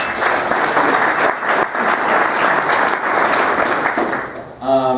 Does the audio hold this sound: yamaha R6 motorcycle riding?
no